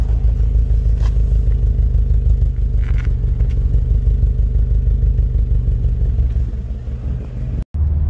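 Aftermarket exhaust on a Japanese car with a 2.5-litre boxer engine, giving a loud, steady low rumble at a constant idle-like pitch, close up, with a brief dropout just before the end.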